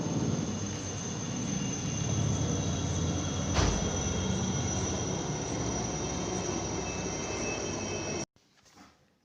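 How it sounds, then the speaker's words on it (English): A helicopter flying a few meters overhead, heard from the rooftop of an 80-foot building: a loud, steady, close engine roar that holds for about eight seconds and then cuts off abruptly. "This sound of helicopter was recorded by me from the top of our building."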